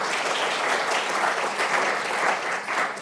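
Sustained audience applause fills a closing ceremony for a chemical sciences event, a steady dense wash of many hands clapping at close range with no gaps and no voices on top.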